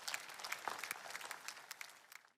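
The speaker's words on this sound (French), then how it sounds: "Applaudissez pour elle." An audience at a church service applauds, a quiet wash of many hands clapping with scattered distinct claps that slowly thins out.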